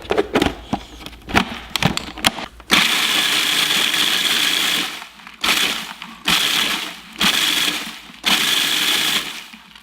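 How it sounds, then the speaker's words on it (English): A food processor grinds Tostitos tortilla chips into fine breading, starting with choppy crunching pulses, then running in several loud sustained bursts separated by brief pauses. "Let's get these Tostitos in the food processor."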